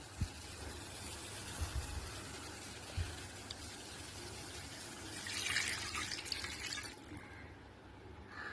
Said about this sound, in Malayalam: ആവശ്യത്തിന് വെള്ളം ഒഴിച്ചു കൊടുക്കാം.